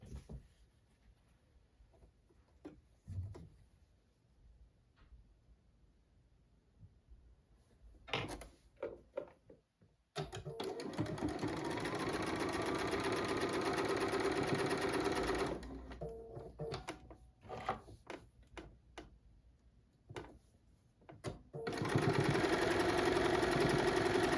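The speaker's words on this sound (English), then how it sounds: "so now I'm going to sew this together. Again, I'm going to chain stitch these two and these two together" A sewing machine chain-stitches quilt block pieces cut from summer-house-print fabric, with quiet handling noises first, then long steady mechanical whirring runs broken by short pauses, close and fairly soft.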